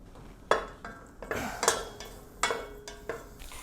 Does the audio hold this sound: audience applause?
no